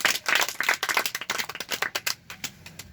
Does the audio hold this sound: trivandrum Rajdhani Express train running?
no